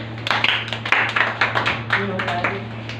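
A classroom of students clapping in quick, uneven claps indoors, with a faint voice and a steady electrical hum beneath.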